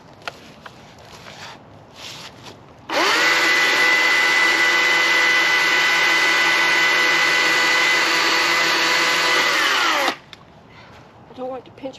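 After quiet outdoor sounds, a chainsaw cutting a fallen tree roars steadily for about seven seconds at a constant high pitch, then cuts off abruptly.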